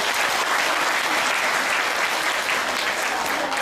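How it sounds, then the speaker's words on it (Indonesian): Sustained, loud applause from an audience at a Mafia Sholawat religious gathering in Hong Kong, a dense even wash of clapping filling the whole stretch without a break. "Tepuk tangan dulu."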